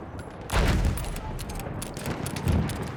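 Rapid gunfire in the Battlefield 6 reveal trailer, two loud bursts of close automatic shots with heavy low thumps, separated by quieter rattling fire and background battle noise.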